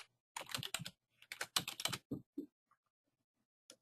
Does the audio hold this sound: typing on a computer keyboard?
yes